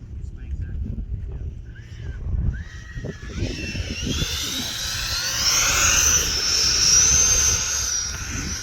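An E-flite 80mm F-16 RC jet with flaps out makes a slow landing pass, its electric ducted fan building into a loud, rising whine that holds near and steady, with a voice speaking early.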